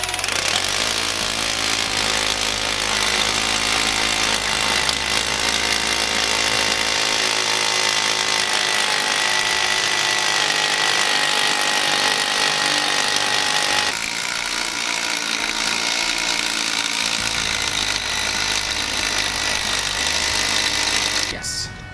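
A big rotary hammer bores an inch-wide hole, hammering continuously and loudly throughout with a brief shift in tone partway through.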